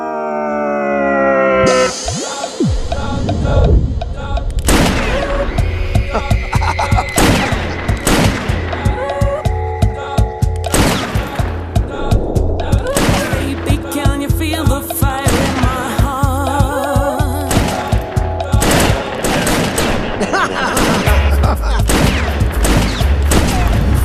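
Gunfire in a Hindi action movie, a loud, long fusillade of rapid shots and bursts over a rising whine, with brief shouting mixed in.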